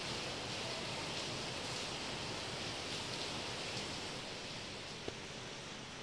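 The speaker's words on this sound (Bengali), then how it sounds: "খালি অঝরে কেমন ঝরেই যাচ্ছে বৃষ্টি" Steady heavy rain hisses evenly throughout, a dense constant wash of noise with one faint click near the end.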